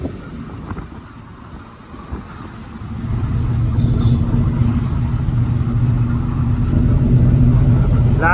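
Road traffic in Latur heard from inside or beside a truck, with a low engine rumble and passing vehicle noise that swells louder and steadier partway through, plus wind buffeting, no speech.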